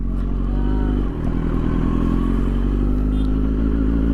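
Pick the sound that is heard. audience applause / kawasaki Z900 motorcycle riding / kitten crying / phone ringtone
kawasaki Z900 motorcycle riding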